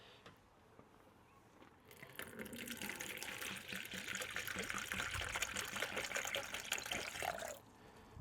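Liquid is poured off strawberry cider must, a steady splashing pour that rises after a quiet start, runs for several seconds close by, then cuts off abruptly.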